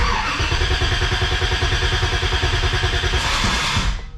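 A motorcycle engine flooded with brake cleaner cranks over with a fast, steady mechanical chugging and a rough clattering buzz, loud and close, then cuts out abruptly at the end; no talking.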